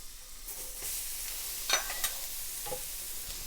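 Butter sizzles on a hot griddle at moderate volume, with a quiet crackle and a few brief scraping clicks from a spatula spreading it.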